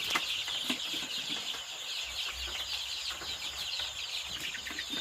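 Chickens clucking in an intensive coop built for day-old chicks and about 100 birds, a dense, continuous chorus of overlapping clucks and cheeps at moderate volume with faint low rumbling underneath.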